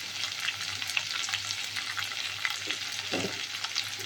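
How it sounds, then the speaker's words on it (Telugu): Mutton and sliced onions fry in a pan with a continuous close crackling sizzle, its texture busy and even, with soft stirring scrapes and no talking. "ఉల్లిపాయ కొద్దిగా వేగనిచ్చి మటన్ వేసేసుకుందాం ఫ్రెండ్స్"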